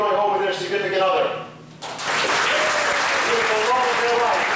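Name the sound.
audience applause at comedy magic show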